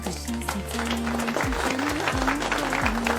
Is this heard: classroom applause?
yes